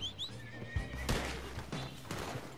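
A horse in the video game Red Dead Redemption whinnies once, a sharp rising neigh near the start, followed by a few faint hoof clops over a low steady game background.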